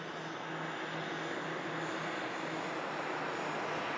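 Steady broadband roar of an aircraft at Manchester Airport, loud and continuous throughout with a faint low engine drone, no voices.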